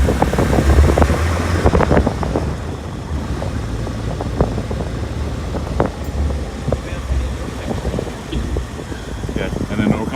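A Volvo military jeep engine running while the vehicle drives, a low, rumbling drone with wind buffeting the microphone and occasional knocks and rattles, steady and close throughout.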